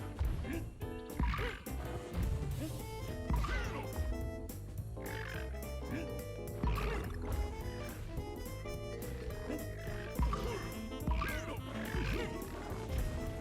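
A frog enemy croaks in Donkey Kong Country Returns in mirror mode, its calls repeating over the game's loud, busy background music.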